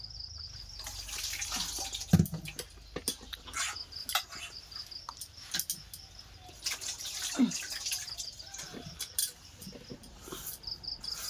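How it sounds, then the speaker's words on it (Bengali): Something washed by hand under running water at home, with intermittent splashes, drips and trickling, a few sharper knocks, and a steady high insect-like chirp in the background. "দেখি একটু ভালো করে ধুয়ে নিই।"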